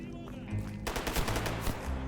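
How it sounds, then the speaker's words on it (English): Soldiers in the shooter game STALKER GAMMA opening fire, rapid bursts of automatic gunfire cracking in over a low ambient drone, fairly close. "only for them to open fire the moment I get close"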